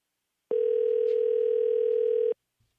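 A single telephone ringback tone, steady and loud for about two seconds, heard while calling a tire and automotive shop, then silence.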